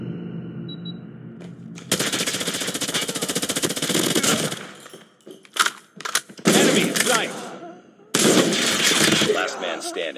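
Automatic weapons in Call of Duty Mobile rattle in loud, rapid bursts separated by short gaps, with sharp single shots between the longer volleys.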